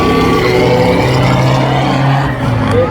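Ford Mustang and Dodge Neon race cars accelerate hard at New Smyrna Speedway in a spectator race, a loud sustained engine roar with layered revving tones filling the whole stretch, steady and close throughout.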